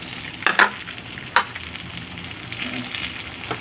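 Eggplant omelette, tortang talong made with two eggs, is laid into a hot pan and fries with a crackling sizzle, a couple of sharp splattering bursts early on, then a steadier hiss of frying oil.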